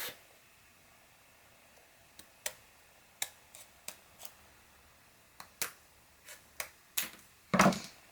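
Scissors cut die-cut paper pieces in half, giving a series of sharp, quiet snips spaced irregularly across the clip, with a louder cluster of cuts near the end and no talking.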